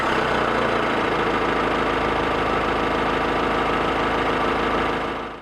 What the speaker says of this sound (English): we found a touch too much diesel clatter enters the cabin, particularly at idle